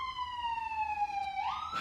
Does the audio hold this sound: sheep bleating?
no